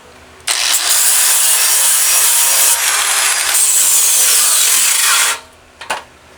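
Flat disc sander grinding the rain-damaged surface of a gas fire pit, a loud continuous abrasive whir running about five seconds, then stopping, with a couple of brief knocks after.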